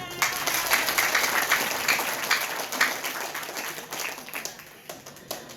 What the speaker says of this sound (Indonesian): Oke, boleh tepuk tangan semuanya.